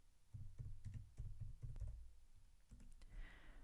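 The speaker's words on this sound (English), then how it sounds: "I'm just going to type in bullet journal" Keys on a computer keyboard tapped in a short burst to type a search, a quick run of soft close clicks over about two seconds before a brief pause and a faint final click.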